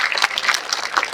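Dense crowd applause at a BRS party political public meeting in Jagtial, a brief, loud burst of many hands clapping together.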